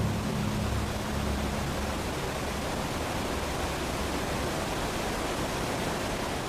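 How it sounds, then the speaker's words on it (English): Large waterfalls between Upper and Lower Kintla lakes, a continuous broadband roar of rushing water, steady and moderately distant, with a faint low hum fading early on. "Upper and Lower are 2 lakes separated by large waterfalls."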